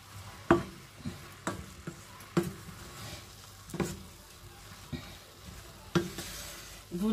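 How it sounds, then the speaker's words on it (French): Seasoned spinach, salted and dusted with black pepper, is stirred in a pan over a soft sizzle, with sharp spoon knocks against the pan at irregular intervals, close and without talking. "Bien mélanger par contre. On mélange bien."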